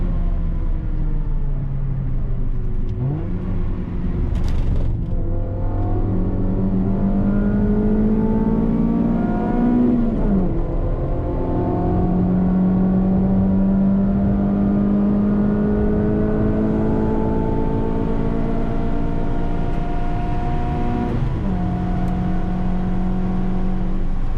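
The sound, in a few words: Honda Civic engine racing at Silverstone in 3rd gear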